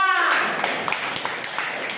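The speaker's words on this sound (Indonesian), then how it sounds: "tepuk tangan untuk kelompok 2" A classroom audience applauds a student group as it comes forward to present, a dense, steady patter of many hands clapping with scattered sharper claps, sustained for the whole stretch.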